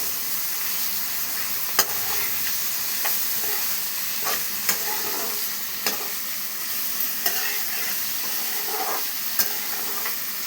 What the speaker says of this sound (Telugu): ఇవన్నింటినీ కూడా ఒకసారి మరీ కలుపుకుందాం